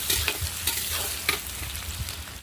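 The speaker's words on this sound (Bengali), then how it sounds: "পেঁয়াজটা আমার হালকা ভাজা হয়ে গেছে" Chopped onion fries in hot oil in a wok with whole spices, a steady close sizzle broken by a few sharp scrapes and clatters of stirring, with no talk.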